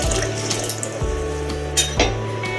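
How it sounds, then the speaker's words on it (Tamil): Water poured from a tumbler into a pressure cooker holding rice, dal and vegetables for sambar rice, a short splashing run with metallic clinks of vessels in a home kitchen. "இது வேகிறதுக்கு 4 டம்ளர் தண்ணி எடுத்துக்கோங்க. எடுத்து ஊற்றிக்கோங்க."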